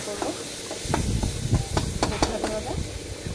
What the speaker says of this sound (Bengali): এখন রসুনটা একটু ভাজা ভাজা করবো